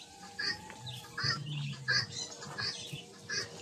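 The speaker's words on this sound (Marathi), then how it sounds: "छोट्या छोट्या कोंबड्या आहेत तिथे." Small hens giving short, soft clucking chirps, about a half-dozen calls spaced at fairly even intervals, slightly distant and quiet over a low background murmur.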